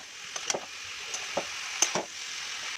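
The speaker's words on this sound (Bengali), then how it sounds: "বাঁধাকপি দিয়ে মশলার সঙ্গে বাঁধাকপি ভালো করে মিশিয়ে দেব।" Cabbage frying with spices in a pan over medium heat, a soft steady sizzle under several light scraping stirs of a spatula, close and fairly quiet.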